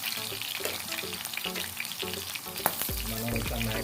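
Marinated chicken frying in a pan for a crispy chicken fry, a steady close sizzle with occasional stirring scrapes, no voices.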